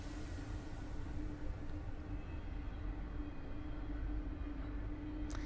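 A train passes somewhere outside, a constant low rumble and wash of noise with a faint steady hum running through it, distant and unbroken for the whole stretch with no one talking.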